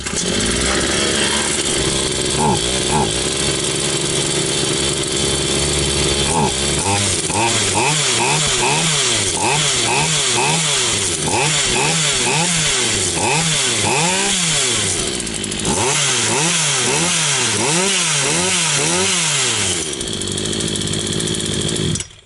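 A Hyundai X 380 petrol chainsaw, freshly assembled, is pull-started and then runs loud and close, its engine repeatedly revving up and dropping back in rising and falling waves before idling unevenly.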